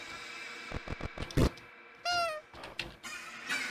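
A cat meows inside a horror video game, a clear rising-falling meow standing out after a run of sharp knocks and thumps, followed by further short game noises.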